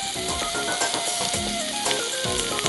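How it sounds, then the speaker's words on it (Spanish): Onion and garlic frying in oil in a skillet, giving a loud, steady crackling sizzle with small popping bursts throughout, close up and without voices. "vamos a poner un poquito de aceite en nuestro sartén y ahí vamos a dorar la cebolla junto con el ajito"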